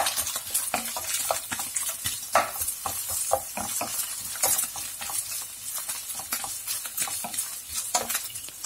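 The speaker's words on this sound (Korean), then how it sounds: "썰어놓은 양파를 넣어서 함께 볶아줍니다." Sliced onions being stir-fried in a pan with mince for a soybean stir-fry, with rapid repeated spatula scrapes and clicks over a continuous crackling sizzle, close and busy throughout, with no voices.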